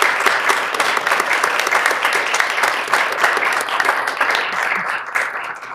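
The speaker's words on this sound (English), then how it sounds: "Can I get a little round of applause for all of our winners, just because?" A council chamber audience at a city heritage awards ceremony gives the winners a steady round of applause, dense clapping sustained throughout and easing slightly at the end.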